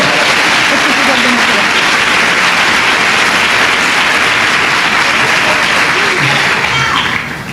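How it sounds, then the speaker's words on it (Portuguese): A church congregation applauds Jesus during a sermon by Pastor Sandra Alves, a loud, dense wash of clapping from a large crowd that holds steady and fades slightly at the end. "O dia aplaude Jesus com força."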